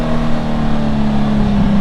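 The flashed Honda Gold Wing GL1800 motorcycle engine rumbles loud and steady with a deep, throaty hum. A slight rise comes near the end, close to the bike and continuous throughout, with no talking.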